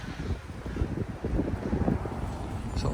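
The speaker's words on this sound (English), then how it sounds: "it's too windy for sitting outside" Gusty wind rumbles and buffets the microphone in low, uneven bursts, loud and close, with no voices.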